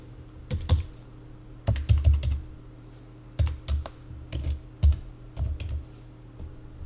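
Typing on a computer keyboard during data entry, bursts of close, crisp key clicks in irregular clusters separated by short pauses, with no speech.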